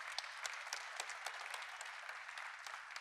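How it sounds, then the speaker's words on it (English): Audience at a commerce product event claps for a speaker named Jacob, brisk steady applause from a conference hall crowd sounding fairly close and sustained with individual claps popping out. "A round of applause for Jacob."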